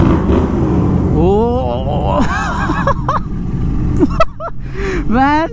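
GT 650 motorcycle fitted with a Powertronics ECU and a loud aftermarket exhaust, revving hard in repeated rising and falling bursts close by, with a voice talking over the engine.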